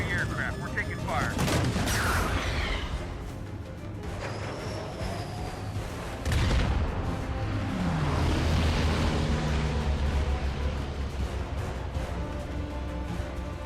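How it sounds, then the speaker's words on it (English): An action movie shootout in which gunfire erupts in dense bursts and scattered shots over a roaring, chaotic soundtrack of explosions and rushing noise, loud and layered throughout. "A massive shootout ensues, killing many Secret Service agents and military personnel"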